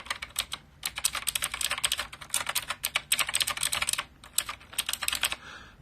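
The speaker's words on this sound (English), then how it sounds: "You like those ASMR typing sounds?" Fast, steady clicking on a computer keyboard in an ASMR setting, close and crisp, in dense bursts separated by brief pauses, with no talking.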